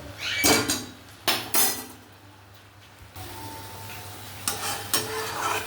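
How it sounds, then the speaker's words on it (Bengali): A spoon stirs garam masala and meat masala into a prawn and banana flower curry in a pan, giving a few loud scraping, clattering strokes against the pan over a soft sizzle, with quieter gaps in between. "গরম মশলা আর মিট মশলা দিয়ে আর একটু নেড়ে নিলাম"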